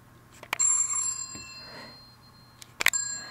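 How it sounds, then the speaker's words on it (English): A telephone rings in two short, bright bell bursts separated by a pause, fairly close, with a lingering tonal ring after the first burst and no talking. "Then the phone rang."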